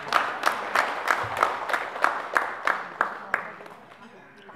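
Guests at a Kazakh wedding give a round of rhythmic clapping, about a dozen evenly spaced claps that fade toward the end, heard close and without talk.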